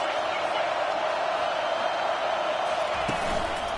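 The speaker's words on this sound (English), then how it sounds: "This crowd trying to make life miserable for this offense." Steady roar of a loud football stadium crowd bearing down on the visiting offense, a dense continuous wash of voices throughout with a brief sharper shout near the end.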